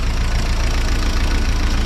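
A 1955 Willys CJ5 Jeep engine idles close up through a new exhaust system and brand-new muffler, a steady low rumbling throb with an even, slightly knocking rhythm and no talk.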